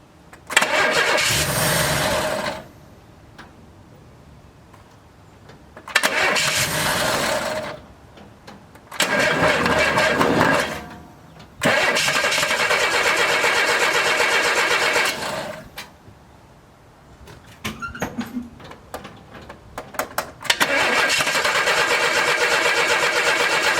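A 1964 Pontiac LeMans engine cranks and catches in several loud bursts, with long stretches of churning and roaring separated by pauses and a few clanks. Fuel has just been poured into the carburetor, and the ballast resistor had been disconnected.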